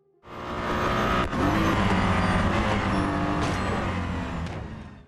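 Racing cars from Real Racing 3, a mobile driving game with licensed Ford, McLaren and Bugatti vehicles, roar continuously with a steady engine drone, a brief dip near the start, and no voices over it.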